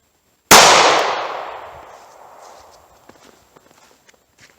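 A .38 Special handgun fires an Inceptor ARX bullet into a ballistic test medium with one sharp, loud shot, whose echo decays over about two seconds before faint clicks and handling sounds follow.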